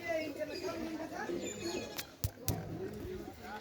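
Low, rolling coos from Pakistani Golden pigeons, young birds among them, run through the stretch close at hand while someone talks over them, and a few sharp clicks or taps land near the middle.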